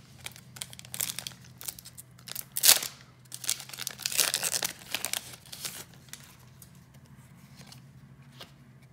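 Pokémon card booster packs being opened, foil wrappers crinkling and tearing up close in irregular bursts, loudest in the middle and fading to quiet shuffling at the end.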